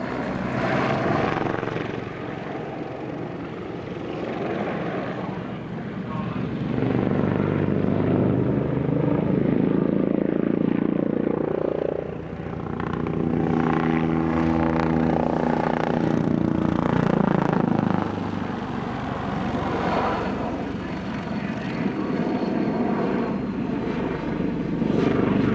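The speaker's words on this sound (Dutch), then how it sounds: "De A109 is een helikopter die wordt gebruikt voor lichttransport van troepen, ondersteuningsmissies" An Agusta A109 light military helicopter flies at an air show, its rotor and turbine swelling loud as it passes, with a strong pulsing rotor beat midway before fading and returning.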